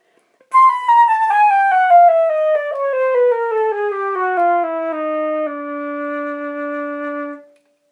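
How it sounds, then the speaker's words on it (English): A complete flute, head joint attached and keys worked, plays a smooth descending run of connected notes, then holds a low final note before fading; close, clear and alone, with no talk. "When the head joint is attached to the rest of the flute and the keys are used to produce a range of notes,"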